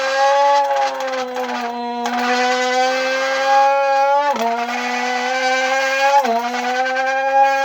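A human voice mimics a Red Bull F1 race car, a sustained high buzzing whine that holds steady and drops sharply twice as if shifting gears, loud and close with no other sound.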